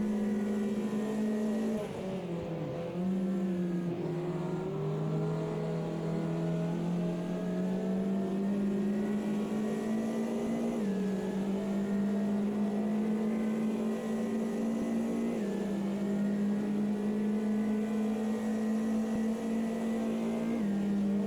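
A Ginetta race car in a VR racing game holds a loud, steady engine drone throughout, pitch climbing and dipping with short gear-change steps as it laps the circuit, no talk over it.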